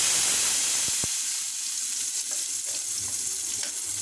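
Masala with cardamom powder fries in a pan, a close, steady sizzle with a few sharp stirring clicks and scrapes near the start and scattered softer ones later.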